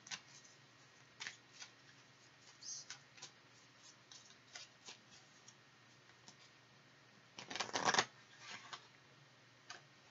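Tarot cards are shuffled and handled during a reading: soft, faint papery clicks and flicks arrive irregularly, with one longer riffling burst near the end, in a quiet room.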